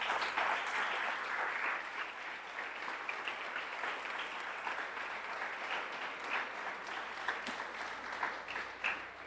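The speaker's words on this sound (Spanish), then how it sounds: "Si quieres aplaudirle a él, aplaude." A church congregation applauds together during a service, sustained steady clapping from a roomful of people that holds at an even level for several seconds.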